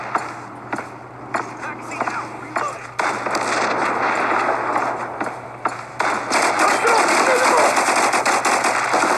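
Gunfire in a mobile video game team deathmatch, rapid continuous automatic bursts and clicks that grow denser over a steady background hum, with talk heard over the shooting.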